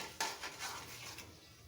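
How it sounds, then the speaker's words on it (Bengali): A spoon stirs sugar through raw mango pickle in a pan for a Bengali sweet achar, giving a brief, faint clink followed by a few soft scrapes against the pan. "চিনিটা দিয়ে ভালোভাবে নেড়ে চেড়ে দিব।"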